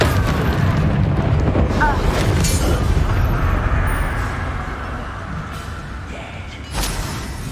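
A loud, rumbling blast from a Bombarda spell in Hogwarts Legacy on PS5 fills the scene with dense roaring noise that fades over several seconds before a smaller burst near the end.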